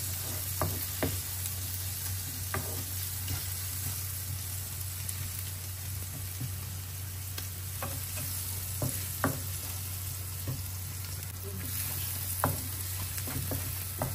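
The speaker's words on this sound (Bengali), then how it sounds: "এটাকে একটু ভেজে, হালকা একটু ভেজে নিচ্ছি" Ground coriander powder frying lightly in a pan as it is stirred gives a steady, quiet sizzle broken by occasional soft scrapes and clicks from the spoon, with no talking.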